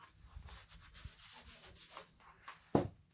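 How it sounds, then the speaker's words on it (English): An iron presses and slides over folded fabric for a sewn shopping bag, giving soft, quiet rubbing and shuffling strokes that end in one sharper thump near the close. "now you'll iron on top of it"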